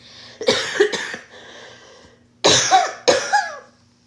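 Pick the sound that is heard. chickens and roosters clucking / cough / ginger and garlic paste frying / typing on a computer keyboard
cough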